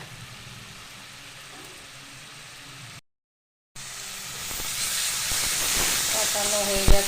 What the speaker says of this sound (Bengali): এবার এটাকে আমি ভালো করে কষিয়ে নিই।